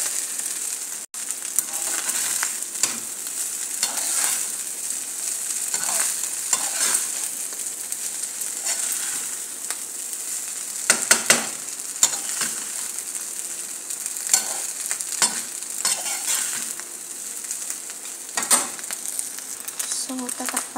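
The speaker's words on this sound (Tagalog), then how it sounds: "naririnig nyo na yung medyo nagpa-popping yung rice" Fried rice with chicken, corn and carrots crackles and pops steadily in a pan at close range, with scattered louder spits and scraping stir strokes throughout, no talking.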